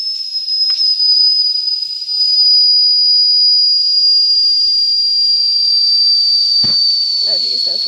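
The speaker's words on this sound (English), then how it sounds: "I'm going to release the steam" Steam hisses in a loud, steady, whistling jet from a D5 toy steam engine as pressure is released, running unbroken the whole time, with a few faint clicks and handling noises near the end.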